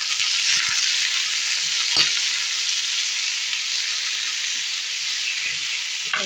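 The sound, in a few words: tomatoes being sautéed in a pan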